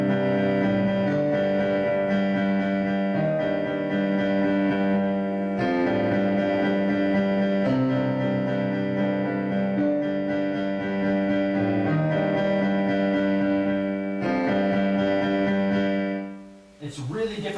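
Piano playing the Shin Gojira theme with the sustain pedal held, letting rich layered chords ring and blend as they rise through phrases, steady and fairly loud, alone, with a brief stop near the end.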